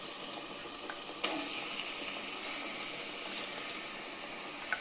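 Tap water running into a kitchen sink while chicken is washed, a steady faint hiss of flowing water with a couple of small clinks.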